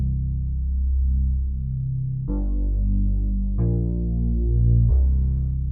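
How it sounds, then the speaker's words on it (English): A deep synth bass plays long sustained notes, each new note starting with a brighter attack that mellows into a warm, throbbing low tone, with four notes over a few seconds and nothing else playing. "And then we add this new synth bass sound."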